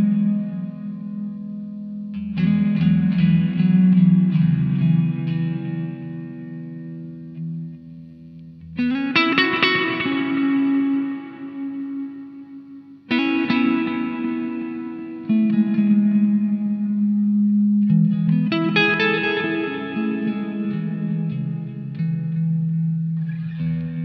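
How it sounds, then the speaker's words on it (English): An electric guitar plays chords and strummed passages through reverb and delay pedals, with long echoing, spacey tails washing between phrases and no voice present. "By combining reverb and delay, you can get some really cool spacey sounds."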